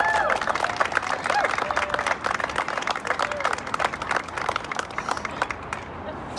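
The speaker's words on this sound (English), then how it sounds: "Can we give another round of applause to Corey?" An audience claps for Corey at a George Floyd anniversary event in Rhode Island, a dense patter of applause with scattered whoops, gradually thinning toward the end.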